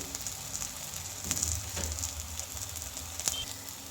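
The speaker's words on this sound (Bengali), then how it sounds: "অপর পারেও এমন লাল লাল করে ভেজে নেব।" Tomato pakoras fry in hot oil with a steady, soft sizzle that keeps on evenly throughout, broken by a few faint clicks and light stirring touches, with no voices heard.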